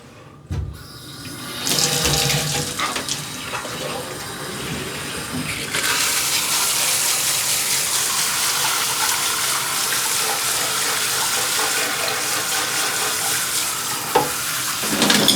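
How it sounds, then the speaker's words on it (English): Water running from a lab hose to rinse down a laboratory, starting faintly, then gushing into a loud, steady spray that continues to the end. "let's do some rinsing down in the laboratory with the lab hose and see what happens"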